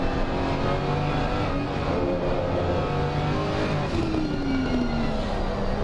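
A GT3 race car at the Paul Ricard circuit accelerates hard out of a corner after an early upshift. Its engine note climbs steadily and stays loud and close throughout, with no voices.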